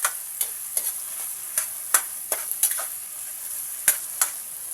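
Okra and other vegetables for pakbet fry in a pan with a steady high hiss, broken by sharp stirring scrapes and clatters spaced irregularly, close up and without talk.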